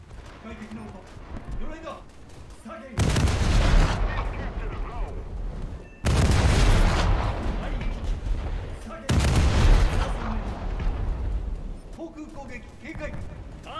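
AI gunners on a ship in a naval warfare game fire anti-aircraft guns in three heavy sustained bursts of rapid booming fire, each lasting a few seconds, with someone talking softly in the quieter gaps.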